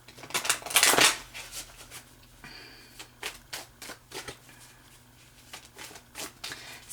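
A deck of romance angel oracle cards is shuffled by hand, with one loud riffle and then a run of quick, close, crisp snaps and flicks, with no voices.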